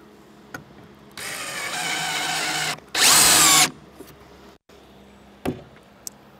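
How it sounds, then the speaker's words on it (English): Two bursts of a power drill whirring up close while pre-drilling screw holes in wood, the second louder and higher-pitched, followed by a few light knocks and clicks. "I'm going to pre-drill a hole for each of my screws."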